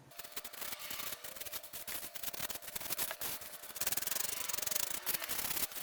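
A hand rubs carved foam to smooth it, giving a continuous close scratchy brushing with quick back-and-forth strokes that grows louder toward the end.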